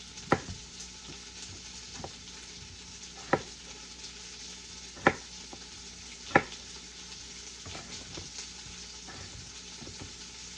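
Meat browning in a hot pan for a hearty southern soup gives a steady close sizzle throughout, with occasional sharp clicks and taps of utensils against the pan and no voices.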